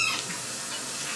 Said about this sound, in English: I'm going to be pan frying this.